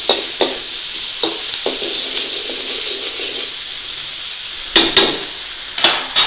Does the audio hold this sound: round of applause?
no